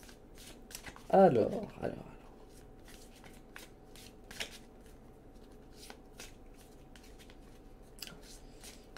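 Tarot cards are shuffled in one short riffling burst near the start, followed by scattered light taps and card handling, close and soft, with a voice saying a brief word.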